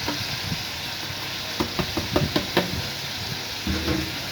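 Chopped cabbage is stirred into a hot sizzling pan, with a steady frying hiss under a run of clattering spoon scrapes and knocks against the pan; no one speaks.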